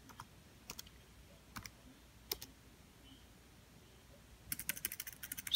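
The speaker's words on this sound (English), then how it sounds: "So nervous I can't even type properly." A password is typed on a computer keyboard: a few sparse, separate key clicks, then a quick run of faster taps at the end, close and quiet, with no voices.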